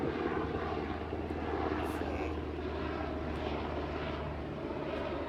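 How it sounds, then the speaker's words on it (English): A helicopter flies overhead behind a person, giving a loud, steady engine and rotor roar that runs the whole time, with a brief spoken word over it. "There's a helicopter behind me."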